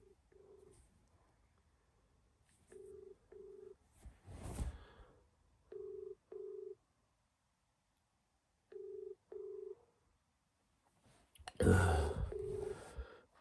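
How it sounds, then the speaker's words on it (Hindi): Telephone tones while calling someone, a steady series of short paired beeps repeating at even intervals, close and clear, broken by a couple of louder rustling bursts near the handset. "बच्चे को फ़ोन करता हूँ मैं"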